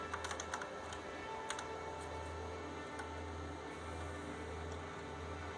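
Keys on a Tandy 1000TX computer keyboard click in a few quick, faint taps early on, over a steady low hum of machine noise.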